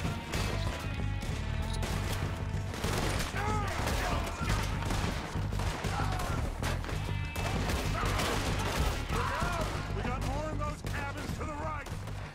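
Rapid gunfire in a Red Dead Redemption 2 shootout, dense overlapping shots and impacts under a steady loud game soundtrack, continuous throughout with voices talking over it.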